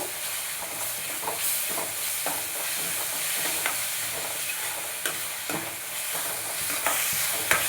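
Ginger-garlic paste frying with onions in a pan for a mushroom gravy: a steady, close sizzle broken by sharp scraping strokes of a stirring spoon, with no voices.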